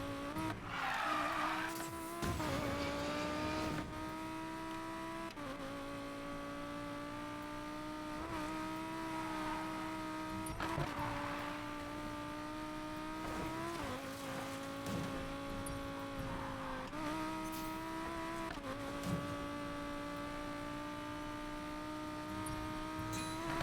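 Race car engine droning steadily in a video game, with repeated tire squeals and skids as the car slides through corners, the pitch rising and dropping at each gear change.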